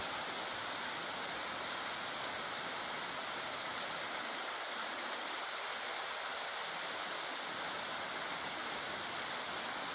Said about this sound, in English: Flowing into North Fork Silver Creek.